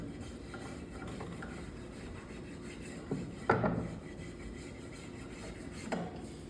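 A spokeshave shaves a wooden leg in a quiet workshop, soft scraping strokes with a few sharper cuts standing out, close and fairly faint.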